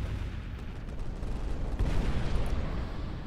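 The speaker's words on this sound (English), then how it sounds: "Thermal barrage there." A thermal barrage from a battleship fleet in Final Theory, a dense rumble of artillery-like impacts that swells in the second half into a louder burst of booms, with no speech.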